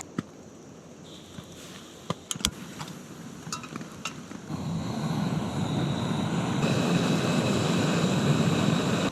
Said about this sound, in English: I'm going to get the stove fired up here.